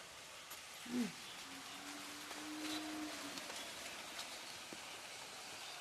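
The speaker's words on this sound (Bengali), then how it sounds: "দেখুন বৃষ্টি পড়ছে, ভালো বৃষ্টি পড়ছে।" Steady rain falling outdoors, a soft continuous hiss with a faint passing drone and a brief louder tap near the start.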